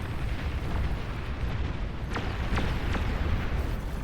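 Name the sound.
bomber run explosions in a video game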